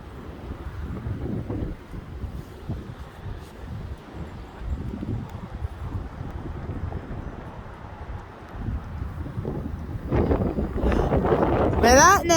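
Strong, gusty outdoor wind rushes past a microphone and shakes a basketball hoop net, a steady, loud buffeting roar that swells near the end, where a voice briefly speaks.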